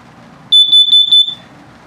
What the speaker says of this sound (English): your carbon monoxide and LP gas detector. If it detects carbon monoxide buildup or LP gas, it'll go off.